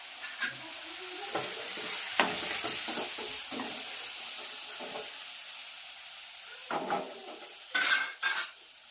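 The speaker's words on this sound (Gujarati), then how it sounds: "સરસ મજાનો દાળનો વઘાર" Hot oil sizzles in a pan as a dal tempering is cooked, with a steady frying hiss broken by sharp clinks of a spoon stirring and tapping against the metal pot.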